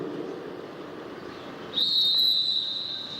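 A single sharp race-start whistle blast at a track cycling event, sounding for over a second above a busy velodrome crowd murmur.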